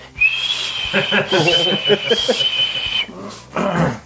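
A whistling lollipop is blown, high, steady whistling tones repeating in short bursts, with breathy hiss and some voice-like sounds mixed in, loud and close.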